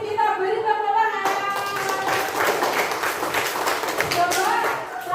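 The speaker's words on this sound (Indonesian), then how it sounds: "Kita beri tepuk tangan." Elementary schoolchildren in a fifth-grade classroom clap for a classmate, a burst of uneven, close clapping that starts after a short stretch of speech and continues with chatter mixed in.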